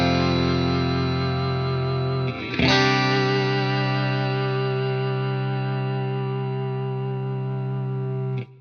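Sustained electric guitar chords played through a Wampler Ego 76 compressor pedal, 1176-style, ringing out long and even with a brief break and fresh strum near the middle before fading at the end, no talking.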